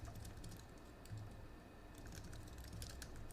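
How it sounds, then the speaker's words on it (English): Faint, continuous clicking of typing on a computer keyboard during a developer lab session, with quick irregular keystrokes that stay soft and distant throughout. "Oops, I'm typing the wrong thing in the wrong window."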